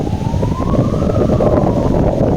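A police siren wails, rising in pitch over loud wind and traffic rumble, heard outdoors at moderate distance in a large town in rain.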